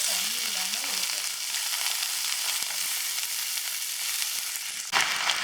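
Eggplant fries with garlic in a pan for kathirikkai poriyal, a close, continuous hissing sizzle that stays even throughout. Near the end there is a brief stir or clatter, and no one speaks.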